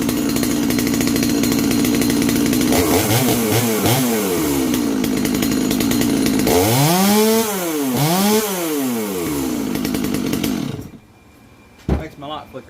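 A Neotec NS846 chainsaw, a Stihl MS250 clone with no muffler mod, idles loudly and close, revving up sharply twice in rising and falling bursts before cutting off near the end; brief talk follows.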